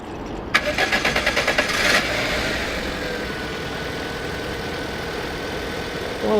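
A Daihatsu Cuore Avanzato TR-XX R4 engine with flush added to its oil cranks and catches, then settles into a steady close idle, with a faint rising whine across most of the run.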